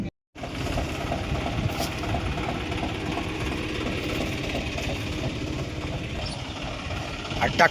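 A John Deere 5310 tractor engine idles steadily with a low, even chug, loud and close, running continuously after a brief silent start.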